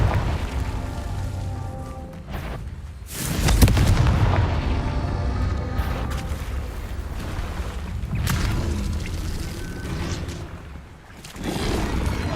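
Confringo fire-blast spells explode repeatedly during Hogwarts Legacy combat, heavy booming blasts with crackling fiery bursts, loud and close, several impacts spread over the stretch alongside layered game effects.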